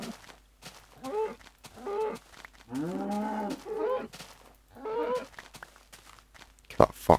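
Cows in the Minecraft video game mooing several times in a row, close and clear low drawn-out calls separated by short pauses, with a sharp thud at the end.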